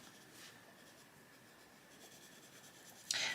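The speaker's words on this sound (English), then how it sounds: "these pencils are going down beautifully on this paper" A coloured pencil rubs softly against fairly smooth paper as a leaf is shaded, a faint close scratching with light strokes, then a brief louder scrape at the end.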